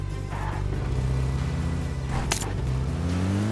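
A vehicle drives in a battle royale video game, its engine a steady low drone that rises and falls in pitch as it speeds up, loud and continuous, with a brief sharp burst partway through.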